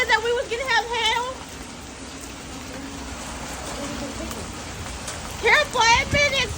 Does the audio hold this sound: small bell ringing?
no